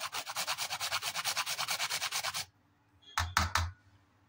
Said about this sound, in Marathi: आणि एकदम घट्टसर पीठ मळून घ्यायचं आहे